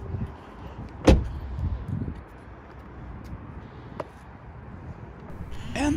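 A car door on a 2009–2020 Kia, Hyundai or Mitsubishi swings shut with one loud, sharp thud close by, followed by a quieter click a few seconds later and a faint electronic chirp at the end over steady outdoor background.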